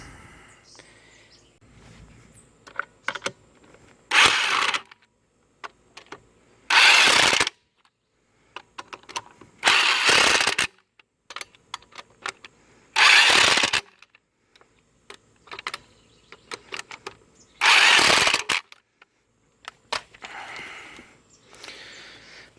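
Wheel going back onto a 1997-2003 Pontiac Grand Prix GT after a front brake job, lug nuts run on in a series of short, sharp metallic bursts separated by quiet pauses, with faint background noise between them.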